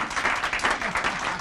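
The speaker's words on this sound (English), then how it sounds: "Can we give her another round of applause?" Short burst of audience applause at a United Way big check presentation in the Capital Region, a dense wash of clapping from a modest crowd that swells and fades in uneven waves, with no talking over it.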